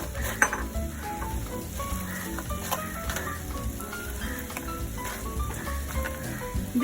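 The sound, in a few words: crispy potatoes added to pan and stirred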